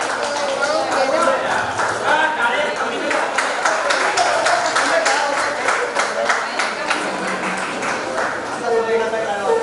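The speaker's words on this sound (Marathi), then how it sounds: "सगळ्यांनी टाळ्या कंटिन्यू चालू ठेवाव्या." A group at a reunion gathering clapping in a steady continuous rhythm, crisp repeated claps running throughout while voices chatter and sing along underneath.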